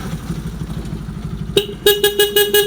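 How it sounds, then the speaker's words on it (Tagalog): Over an idling Bajaj RS200 motorcycle engine, its stock horn gives one short beep, then a rapid series of five honks, loud and close. "Next natin is yung busina"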